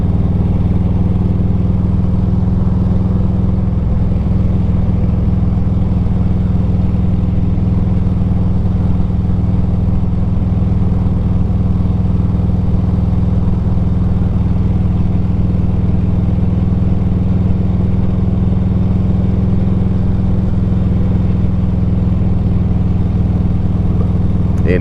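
A motorcycle engine runs steadily during a commute to work, a continuous close rumble with a strong low drone holding level throughout and no talk over it.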